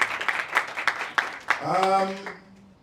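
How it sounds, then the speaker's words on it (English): A few scattered claps from an audience at a youth games torch ceremony, brief and sparse, followed by a voice rising over the tail of the applause. "Let's give him a big hand of applause as he does so"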